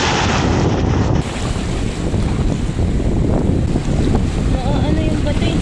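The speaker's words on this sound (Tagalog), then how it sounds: "Tignan nyo mga master kung gaano kalalaki ang alon." Heavy sea surf and wind roar over open water while fishing from a boat, a loud continuous rushing wash with gusty microphone buffeting throughout.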